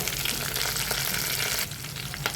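Sliced onion, green chillies, curry leaves and a clove fry in hot oil with a dense, continuous crackling sizzle, close and fairly loud throughout.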